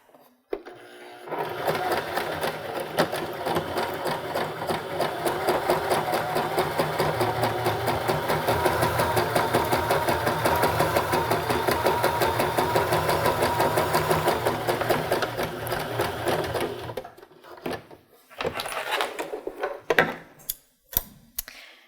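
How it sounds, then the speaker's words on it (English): A sewing machine runs steadily for about fifteen seconds top stitching fabric along a zipper on a cork box pouch, a fast close whirring rattle that then stops, followed by a few clicks and handling sounds. "being consistent with your top stitching is what's important for this step"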